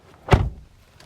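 A single solid thunk as the door of a 2023 Genesis GV60 swings shut without soft-close assist, close and loud, followed by quiet.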